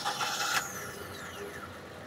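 A 2024 Maruti Suzuki Swift's three-cylinder engine turns over with a short rough burst, then settles into a quiet, steady idle hum.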